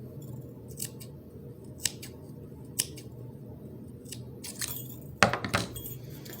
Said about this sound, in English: I'm going to cut some of that string off.